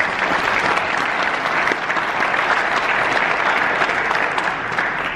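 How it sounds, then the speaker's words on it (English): A banquet audience gives a steady round of applause, dense and sustained clapping from many hands that stays loud and even from start to finish. "so let's give yourself a round of applause"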